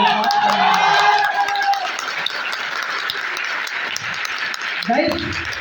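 An audience claps at a talk, with a scatter of sharp, irregular hand claps running through the whole stretch, while a voice speaks loudly at the start and other voices murmur underneath.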